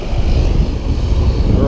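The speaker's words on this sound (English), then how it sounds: "We're on our way out to the plane." Propeller plane engine at a Maldives island resort, a loud, steady, close droning roar without breaks, with voices mixed in.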